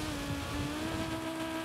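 An old Volkswagen Beetle in a Forza Horizon 5 online race hums steadily with its engine revving under acceleration, a continuous mid-level drone without pauses.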